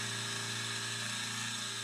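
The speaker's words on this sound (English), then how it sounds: "And now when I mill the taper feature in there" A milling machine cuts a taper feature into a metal reversing-lever part for a Pennsylvania A3 switcher model, giving a steady, close, continuous high-pitched tonal whine with a faint rhythmic chatter underneath and no talking.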